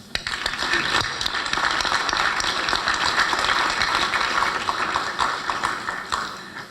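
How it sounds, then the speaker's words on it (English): An assembly audience at a youth motivational event bursts into a sustained round of applause, dense crowd clapping holding steady for several seconds before tapering off near the end. "please join me in a round of applause for all of our supporters"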